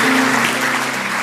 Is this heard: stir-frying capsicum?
no